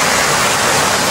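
A waterfall on the journey to Morotai Island in North Maluku sends out a loud, unbroken wash of roaring noise that fills the whole moment without a pause.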